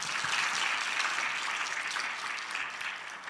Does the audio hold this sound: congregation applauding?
yes